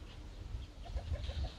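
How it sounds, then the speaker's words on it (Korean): A Daurian redstart parent gives a few soft, quick calls while feeding its ten-day-old chicks in a nest built among bent electric wires. The calls are faint and brief over a low background rumble. "어미새가 먹이를 주면서 지금 소리를 내고 있는 겁니다"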